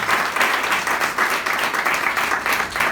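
A church congregation bursts into sustained applause, many hands clapping in a dense, even wash that swells slightly in waves and stays loud throughout.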